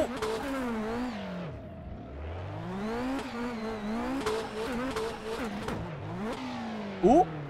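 A Nissan S15 drifts in the rFactor 2 racing simulator, its engine revving up and down in repeated swooping sweeps over tire squeal, steady and close, with a brief sharp blip near the end.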